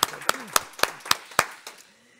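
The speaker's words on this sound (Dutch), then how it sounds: "Die heeft nog een applaus verdiend van ons en van jullie thuis." A small group claps sparsely at a webinar presentation, about seven distinct, separate handclaps spread across two seconds, with a voice faintly audible underneath.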